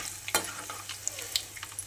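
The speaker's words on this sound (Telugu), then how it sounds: "చూసారుగా ఆవాలు ఎలా చిటపటలాడుతున్నాయో, అలా సౌండ్ రావాలండి." Mustard seeds in hot oil for a tempering with turmeric and asafoetida splutter close by, sharp scattered pops and crackles over a soft frying sizzle, with light stirring.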